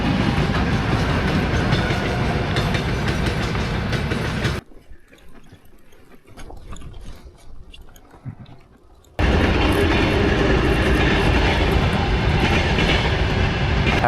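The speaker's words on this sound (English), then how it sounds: "And we got a train." A freight train passes in Mongolia with a loud, roaring rumble of railcars and rhythmic clatter, cutting out to a quieter gap midway before the heavy rolling noise returns.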